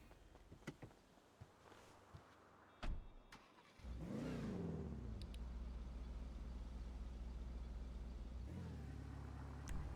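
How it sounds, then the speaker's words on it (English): Car engine in GTA V NoPixel roleplay, a few scattered clicks and thumps, then the engine starts and settles into a steady, moderately loud drone that holds to the end, with no talking. "I'll go park my car."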